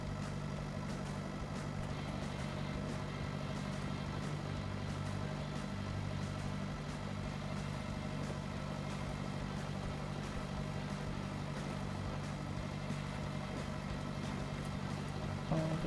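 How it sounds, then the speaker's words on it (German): A tractor engine in the PureFarming 2018 farming game, a steady mid-pitched drone that holds constant while the slow tractor drives along, with no talk. "der Traktor hier zumindest fährt nicht besonders schnell"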